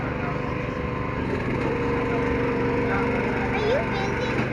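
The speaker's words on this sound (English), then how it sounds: "That's a 91cc saw." A 91cc racing hot saw idles and drones at a Paul Bunyan Show, its engine a steady buzzing hum under outdoor crowd noise and murmured voices.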